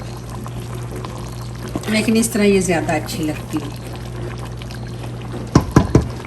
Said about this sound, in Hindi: अगर आप चाहें तो इसमें आप थोड़ा सा पानी ऐड करके हल्का सा इसमें शोरबा भी लगा सकते हैं